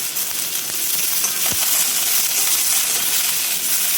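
Onions fry in a pan of hot oil for an aloo bhindi curry, a steady loud sizzle throughout with a brief clink of a utensil partway through.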